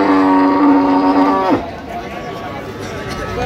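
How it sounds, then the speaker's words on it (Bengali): A cow lows loudly and close by at a busy village cattle market selling dairy cows and calves, one long drawn-out moo that breaks off abruptly, followed by background crowd chatter. "গাভী বাছুর আমরা দেখছিলাম এখানে"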